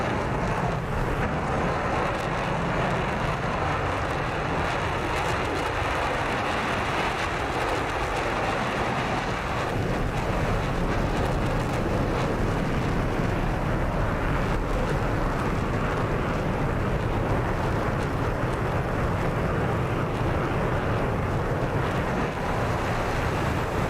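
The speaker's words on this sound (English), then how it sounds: "You can really hear the plane rumble as it gets close to you." F-14 Tomcat jet engine in the DCS World combat flight simulator, a steady, loud, broadband rumble and roar that holds continuously throughout with no speech over it.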